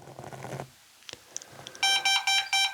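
A handheld ghost meter held right up against a phone goes off, first faint scattered clicks, then a loud, close run of rapid electronic beeps in repeated bursts, with no one talking.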